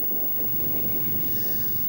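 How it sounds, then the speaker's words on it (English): Wind blows at the Anglesey race circuit as a steady, even rush with low buffeting against the microphone, continuous and fairly loud with no voices or engines standing out. "Still pretty windy out here."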